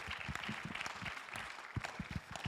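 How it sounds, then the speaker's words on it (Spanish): A church congregation breaks into scattered, uneven clapping that stays fairly faint and somewhat distant throughout. "Give a big applause to the Lord."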